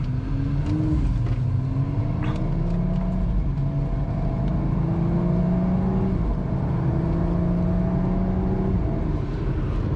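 BMW X3/X4 automatic driven in sport transmission mode, engine revs climbing steadily then dropping sharply at quick, firm upshifts, several times in a row, over a constant loud road and cabin drone with no talking.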